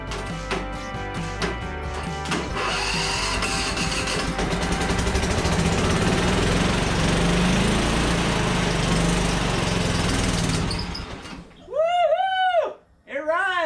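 A Husqvarna Z246 zero-turn mower, its electrical systems bypassed, fires up and runs with a loud, steady engine drone close by. The engine then cuts out and an excited voice follows.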